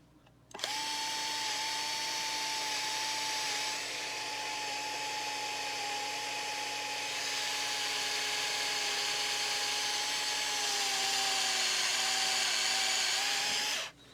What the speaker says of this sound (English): you can drill a hole with these, but you gotta have a lot of patience.